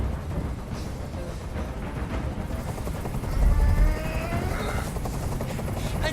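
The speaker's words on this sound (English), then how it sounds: "Tell that helicopter to get out of here." Helicopter hovering overhead in the game Detroit Become Human, a steady low rotor thrum that rises briefly louder midway, with faint voices and gunfire-like noise mixed in.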